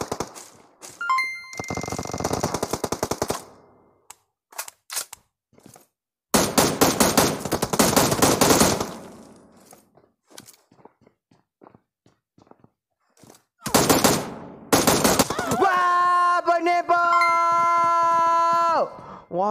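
AKM rifle gunfire in a video game comes in several long, loud automatic bursts separated by pauses, followed by a ringing chime-like game tone near the end.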